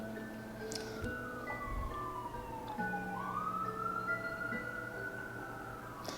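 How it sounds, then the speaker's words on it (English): A distant emergency siren wails faintly in the background, its tone sweeping slowly down and back up under a quiet, steady hum. "there's a siren in the background."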